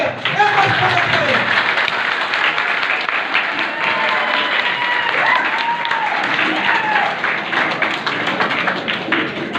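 An audience at a political gathering in Mau, Uttar Pradesh applauds a guest with steady, loud, sustained clapping that fills the whole stretch, while a voice over a loudspeaker carries faintly beneath it.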